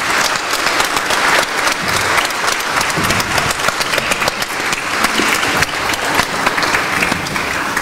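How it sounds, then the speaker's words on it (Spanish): Loud, dense applause from an audience at a ceremony presenting the Ignacio Chávez medal to award recipients, with many hands clapping together in a continuous, crowded roar that lasts the whole time. "Brindemos un fuerte aplauso a nuestros galardonados con la medalla Ignacio Chávez"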